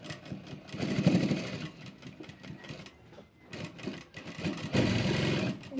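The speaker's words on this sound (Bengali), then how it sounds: "এবার এখানে আমি আরেকবার ডবল সেলাই দিয়ে নেব।" A sewing machine running a double line of stitching on a long-sleeved blouse, a close, rapid mechanical whirring in bursts with brief pauses between runs.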